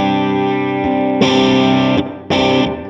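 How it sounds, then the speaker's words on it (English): Distorted Duesenberg Starplayer TV Custom electric guitar on the bridge pickup, tone control at middle, strums chords with a bright, biting tone, three sustained hits with short gaps between them, loud and close. "this is the bridge pickup with the tone control in the middle"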